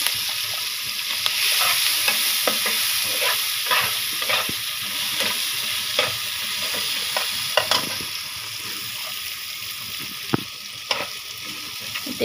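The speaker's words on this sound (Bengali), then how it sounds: "এই তেলের ভিতরে পেঁয়াজগুলি দিয়ে দিব।" Seasoned onions frying in hot oil, a continuous sizzle broken by repeated scraping and stirring clicks from a utensil in the pan, close up and without talk.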